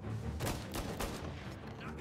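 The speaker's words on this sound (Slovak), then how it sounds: "Odkiaľ strieľajú?" Gunfire in the Mafia Definitive Edition video game comes as several sharp shots in quick bursts over a constant game background. The shots sound fairly quiet in the mix.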